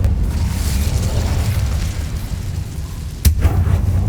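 Incendio fire spell cast in the Hogwarts Legacy video game: a steady low roaring rumble of flames throughout, with a sharp burst flaring up near the end.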